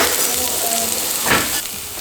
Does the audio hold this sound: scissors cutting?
no